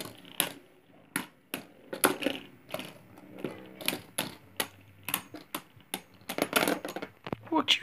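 Plastic Beyblade Burst spinning tops clash and clatter in a stadium, giving sharp, irregular metallic-sounding clicks and rattles at close range, with a voice talking intermittently between the impacts.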